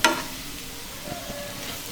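Sliced carrot and cabbage sauté in a pan, opening with a short stirring scrape before a soft, steady sizzle continues quietly on its own.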